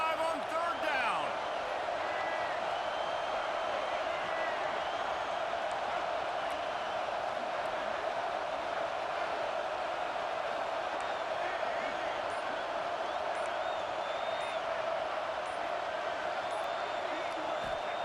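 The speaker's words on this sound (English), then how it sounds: "The Buckeye crowd alive on third down" Continuous stadium roar of an Ohio State Buckeye crowd on third down in the EA Sports College Football 26 video game, steady and moderately loud throughout, with commentary voices over it.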